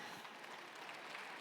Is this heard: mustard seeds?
no